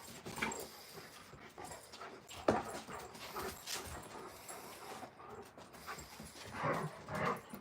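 Alaskan Malamute puppies squeak and whimper in short, faint, high cries scattered over a few seconds, with some soft panting and scuffling nearby.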